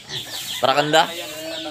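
Chickens cluck nearby on a farm in Mindanao, with a couple of short loud squawks in the middle while someone speaks over them.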